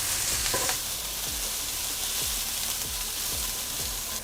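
Mixed vegetables with garlic, salt and pepper fry in a pan for fried rice, making a loud, continuous sizzle with regular low knocks of a utensil stirring and scraping, no voices.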